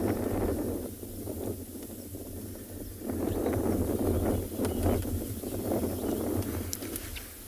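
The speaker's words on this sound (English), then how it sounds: "You can hear the wind gusting now" Wind gusts buffet the microphone in low, uneven surges that rise and fall, with a faint rustle and a few soft clicks in the background, on an afternoon safari in South Africa near a bunch of rhinos.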